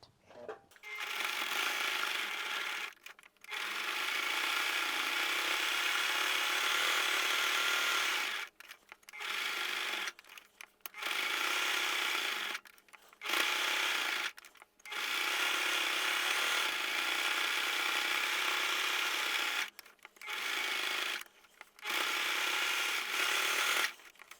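Sewing machine stitching a reusable cloth pad, running in long steady whirring bursts broken by short pauses, close and loud with no talk.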